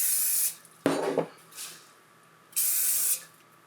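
Canola oil sprays from a spray bottle onto pizza dough in two sharp hissing bursts, one early and one near the end, close and fairly loud, separated by a clunk and softer handling noises.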